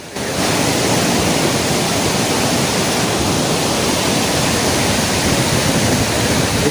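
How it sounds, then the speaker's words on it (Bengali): Tamraghumar waterfall on the Indravati river near Jagdalpur, about 100 feet high, roars as a steady, loud broadband rush of falling water that holds constant throughout, with no voices. "কাবেরী নদীর উপনদী ইন্দ্রাবতী নদীর উপর এই তামরাঘুমার জলপ্রপাত সৃষ্টি হয়েছে।"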